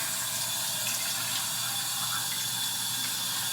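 Running water at a bathroom sink while the face is dampened, a steady, close hiss of flowing tap water with no talking.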